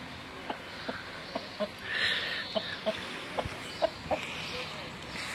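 Hens clucking near a laying nest box, a string of short clucks coming at fairly regular intervals over a low outdoor background, with no talk.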